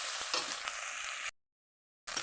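Spice paste frying for rohu fish curry, a bright hissing sizzle with scraping stirs for about a second, then abrupt silence before the sizzle returns at the end.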